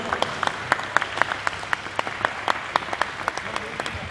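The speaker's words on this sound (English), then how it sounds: "round of applause." Applause at a school badminton victory ceremony for a team placing in the boys' B division, with crisp individual claps standing out in a quick, uneven rhythm throughout, moderately loud and close.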